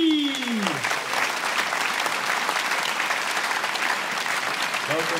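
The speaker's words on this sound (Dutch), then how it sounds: "Mag ik een David applaus voor Erhan Demirci." A comedy show audience at a Ramadan event bursts into sustained applause, dense steady clapping from a full hall, with a voice briefly audible at the start and end.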